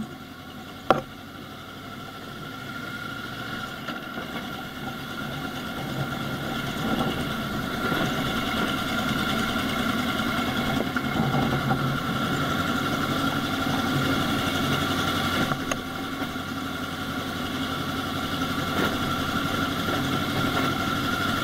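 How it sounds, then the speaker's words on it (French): A heavy tractor engine idles and chugs steadily nearby for a long stretch, a continuous low rumble with one sharp click near the start. "C'est un tracteur."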